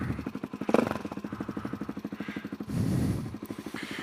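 A Suzuki DRZ motorcycle engine is kick-started and runs with a rapid, uneven single-cylinder thumping close by, rising briefly in revs partway through.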